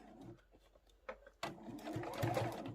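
A sewing machine runs a short burst of stitching along a line on a large crossbody phone pouch, starting after brief soft handling noises and whirring steadily, close and moderately loud.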